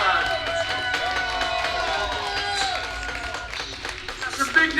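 Arena crowd cheering and clapping for fighter Ocho as he steps into the cage, a dense continuous roar with scattered claps and whistles, swelling toward the end.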